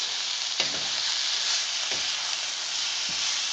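Bean sprouts go into a carrot and burdock stir-fry sizzling in a hot pan, making a loud, steady hiss broken by a few soft knocks and taps from the utensil.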